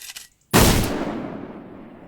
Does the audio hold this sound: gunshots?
yes